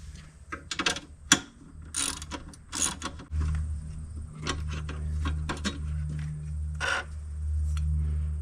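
A ratchet wrench works 12 mm bolts and 13 mm nuts loose from the rear stabilizer bar joining a motorcycle's left and right pannier racks, giving close, rapid clicking bursts mixed with metallic clinks and a steady low hum underneath.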